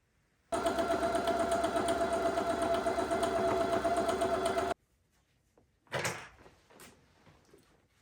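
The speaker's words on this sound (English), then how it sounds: "we sew up that little hole, just making sure that you are staying on the same path as the previous line" A sewing machine runs in one steady, loud burst for about four seconds as it stitches back and forth to close the opening of an elastic channel on a garment, then stops and is followed by a few quieter handling clunks.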